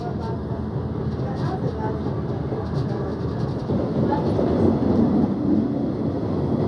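Steady rumble of a train rolling along the tracks to Orlando, Soweto, a constant mechanical drone with faint voices mixed in, growing slightly louder toward the end.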